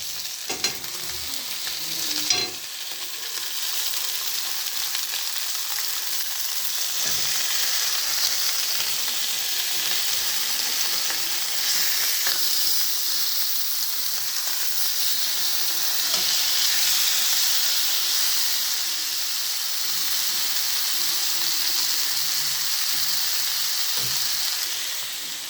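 Pork chop meat frying in a pan with small vegetables, a continuous close hissing sizzle that swells and eases, with occasional soft stirring knocks and no talk.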